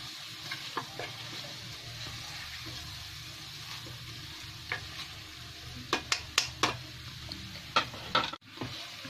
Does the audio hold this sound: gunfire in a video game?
no